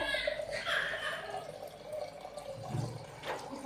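Water poured into a pot of pav bhaji vegetables, a gurgling, splashing pour with a few drips, moderately close under faint background voices.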